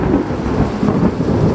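Thunder rumbles and booms through steady heavy rain in a 2019 hurricane rainstorm, a loud continuous wash of downpour with deep rolling swells and no voices.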